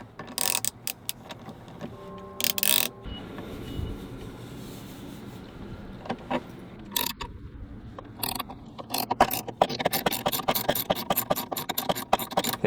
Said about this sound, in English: now I'll tighten down the 1/2 inch bolt in the middle